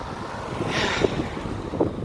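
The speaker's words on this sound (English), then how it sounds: "it's very windy. Very windy, not so much rainy." Gusty wind buffeting the microphone in low, rushing bursts, with a brief stronger gust near the middle, outdoors at night in Shaw Park.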